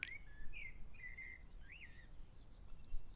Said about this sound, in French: Écoute les oiseaux.